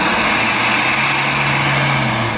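A steady, close engine drone from a SsangYong car that holds at a high, even pitch for a couple of seconds, with no speech over it.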